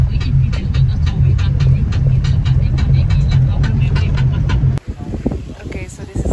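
A car driving along a road near a beach, with steady engine and road rumble throughout, then a sudden stop into quieter, scattered sounds near the end. Speech is heard over the driving noise.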